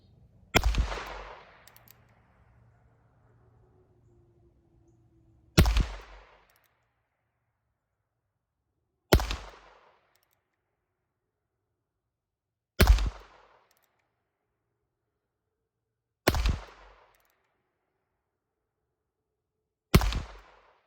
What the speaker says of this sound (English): All right, I've got 6 22 LRs loaded.